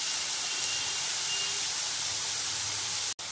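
Bottle gourd fries in a pan over a high gas flame for a lentil dal, giving a constant, even sizzling hiss that cuts off abruptly near the end.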